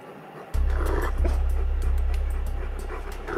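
Two shepherd dogs grapple in a rank fight, a gray dog bearing down with its weight on a yellow one, giving loud, close growls and snarls over a constant low rumble, with short sharp bursts breaking through.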